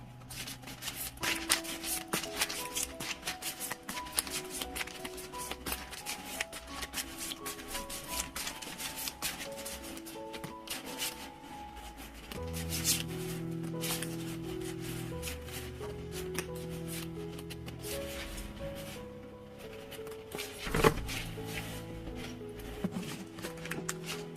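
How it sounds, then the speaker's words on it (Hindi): Tarot cards being shuffled, giving a continuous soft riffling and sliding of cards at close range, heard under quiet background music with no talking. "अब देखते हैं टैरो के कार्ड्स।"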